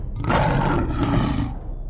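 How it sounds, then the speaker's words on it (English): A single deep, loud roar of the extinct American lion, Panthera leo atrox, a huge Ice Age big cat, swells and rasps for over a second before fading away. "Panthera leoatrox, the massive American lion."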